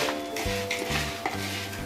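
Namkeen snack mix being stirred with plain and black salt, a clattering, scraping spoon-and-bowl rhythm of several strokes over a light sizzling hiss, close by with no talk.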